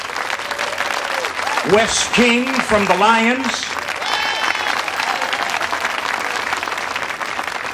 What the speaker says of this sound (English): Please welcome and a round of applause for Doug Damon from the Breakfast Kiwanians